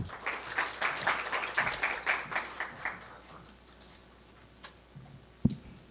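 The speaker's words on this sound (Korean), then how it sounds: "박수 부탁드리겠습니다." Audience applause at a Korea University startup information session, a short burst of clapping in a hall that fades out after about three seconds, leaving quiet room tone with a few stray sounds.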